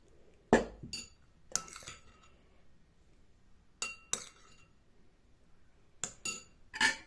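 Utensils stirring marinated pig ears in sauce, sharp close clinks and scrapes in scattered pairs and clusters, separated by quiet pauses.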